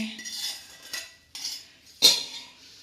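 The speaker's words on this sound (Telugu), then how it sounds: "ఇప్పుడు మళ్ళీ పోపు కూడా మిక్స్ అయ్యేలాగా కలుపు." A spoon mixes fried tempering into mango pulihora in a metal vessel. Three or four separate scraping clinks ring out close by, with short pauses between them and the last one the loudest.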